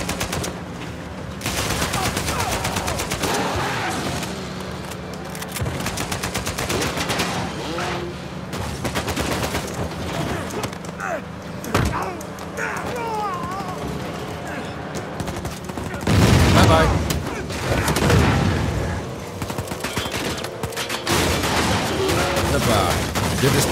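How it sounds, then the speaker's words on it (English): Sustained AK-74 rifle bursts in Uncharted 4, loud, rapid, near automatic fire running almost the whole stretch, with a harder volley around the middle and a voice speaking intermittently underneath. "AK-74, mooi."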